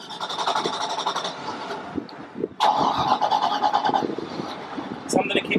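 A dual inboard boat engine cranks and catches, with a short whirring start, a pause, then a second engine turning over and settling into a steady rumble, with voices nearby.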